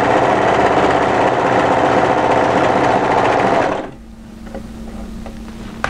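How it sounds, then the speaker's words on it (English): An overlocker runs loud and close, serging the sleeve seam of a funnel neck sweater in one steady high-speed burst for about four seconds before stopping abruptly, leaving a faint hum and small clicks. "and then overlock that."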